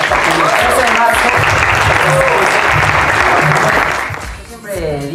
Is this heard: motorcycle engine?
no